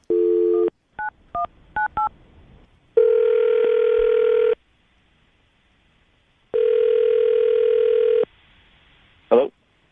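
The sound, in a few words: telephone dial tone as a call is placed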